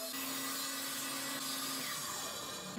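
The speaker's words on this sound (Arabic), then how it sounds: "وبستعمل بقى الدليل العرضي المتحرك في منشار الطاولة وببدأ أشيل الجزء المظلل" Table saw with a sliding crosscut guide nibbling away a section of a wooden board, giving a steady, loud, close whirring cut with a low motor hum that drops away near the end.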